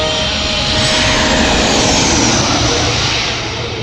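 Airplanes pass overhead near Mumbai's Santacruz airport, producing a loud, sustained jet roar that holds steady for several seconds and then eases slightly as it fades.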